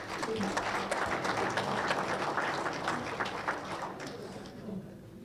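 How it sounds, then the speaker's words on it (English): A crowd at an auctioneers' championship applauds steadily for several seconds, a dense wash of clapping that slowly fades toward the end. "Please give them a big round of applause."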